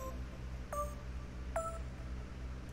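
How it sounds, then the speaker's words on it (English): Two short, bright synth plucks, the Stardust lead from the Dynox Andromeda kit, sound faintly and separately against a quiet background, each a crisp tone that fades quickly. "this is the Stardust pluck, again from the Dinox Andromeda kit"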